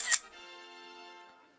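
Single crisp camera shutter click right at the start, bright and close, followed by a lingering tonal hum as it fades.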